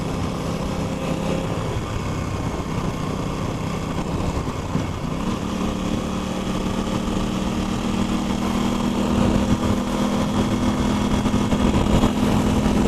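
An Aprilia RS660 motorcycle engine hums steadily in third gear, a continuous mid-pitched drone heard from the rider's position with wind rush, its tone stepping up slightly partway through as it pulls.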